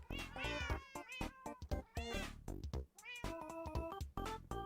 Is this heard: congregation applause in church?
no